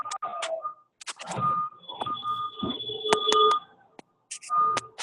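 A phone beeps during an online class on compressors, sounding a series of sharp electronic tones and short chirps that repeat in bursts between gaps, mixed with faint background talk.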